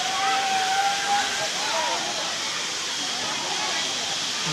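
Waterfall at Harishankar temple, a continuous loud rush of falling water filling the whole scene, with voices faintly present over the steady roar.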